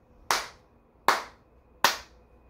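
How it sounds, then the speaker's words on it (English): Three sharp, loud hand claps ring out alone at an even, slow pulse, each with a short room decay, as part of a simple rhythm exercise. "You're just gonna hear my claps."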